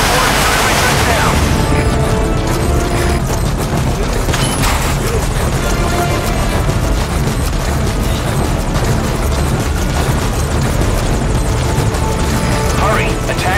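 Helicopter in Metal Gear Solid V coming in to land, a loud continuous rotor roar with rumble and scattered booms, voices talking over it.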